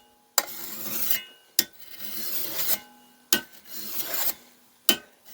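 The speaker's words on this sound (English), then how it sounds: "you're going to do about 10 to 15 passes, and with the honing edge, you should be able to feel that it's smoothing out" Four separate rasping strokes of a cabinet scraper's edge being honed on a Rockler sharpening tool, each a close, scraping pass lasting about a second with short pauses between them.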